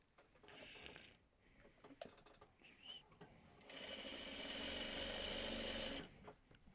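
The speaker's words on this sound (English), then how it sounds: "Just keep sewing, just keep sewing, sewing," A sewing machine stitches, with a few short stop-start bursts followed by a sustained fast, loud run of about two seconds that stops abruptly. A voice is heard faintly in the quieter earlier part.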